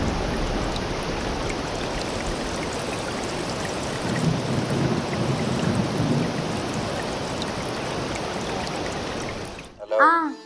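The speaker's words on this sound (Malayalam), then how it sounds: "ആ മഴയൊക്കെ ഉണ്ട് ഇവിടെ. നല്ല മഴയാ." Heavy rain pours steadily near a swollen, overflowing river, swelling midway with a low rumble of thunder before a brief voice cuts in at the very end.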